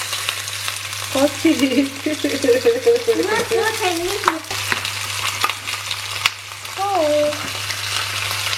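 Homemade kebab filling stir-frying in a pan, a steady sizzle with scraping spatula strokes running beneath a child's and an adult's brief chatter.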